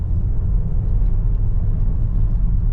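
A 2020 Audi Q5 2.0T quattro Premium Plus AWD accelerates, giving a steady, loud, close engine rumble and road drone with no talking.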